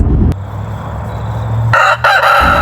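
A rooster crows loudly and close by, a single strained call over a low background hum.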